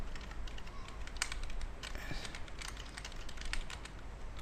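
Computer keyboard clattering as HTML code is typed, quick irregular bursts of soft key clicks, fairly faint and close, with no voices.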